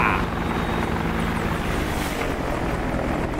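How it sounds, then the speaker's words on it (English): Apache attack helicopter in the DCS World flight sim makes a steady, close rotor drone with a dense broadband engine whine as it passes. "For a second pass in the Apache."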